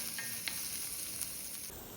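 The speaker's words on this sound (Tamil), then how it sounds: "வெங்காயம் இஞ்சி பூண்டு பேஸ்ட் போட்டு பொன்னிறம் ஆகிற வரைக்கும் வதக்கிக்கலாம்" Onion with ginger-garlic paste sautéing in hot oil in a pan, a steady close sizzle with a few faint clinks of stirring, no talking.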